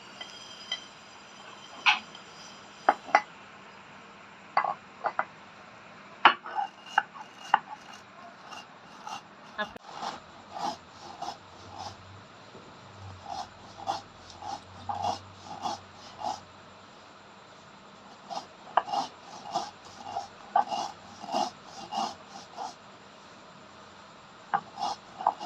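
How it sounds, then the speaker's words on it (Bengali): Mustard seeds being ground into paste for mango kasundi, heard as a close series of rhythmic rasping, scraping strokes, irregular at first and then quicker and more regular. "এবার আমি সরষা গেলে বেটে নিব।"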